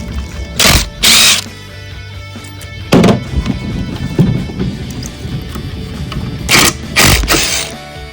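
An impact wrench loosens calcified 9/16 bolts on a Pentair Whisperflow pool pump seal plate, firing several loud, close hammering bursts of about half a second each, separated by quieter handling noise and clinks.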